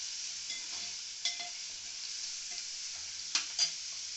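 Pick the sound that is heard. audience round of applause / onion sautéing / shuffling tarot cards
onion sautéing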